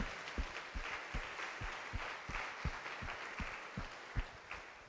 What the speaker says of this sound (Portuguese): Dê mais uma salva de palmas ao Senhor